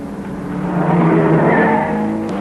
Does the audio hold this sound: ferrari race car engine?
yes